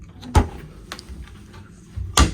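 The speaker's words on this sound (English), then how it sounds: "And these are all soft close drawers." A soft-close drawer in a cruise ship balcony cabin slides open and shut, two muffled thuds with a faint slide and small clicks between them, close by in a quiet room.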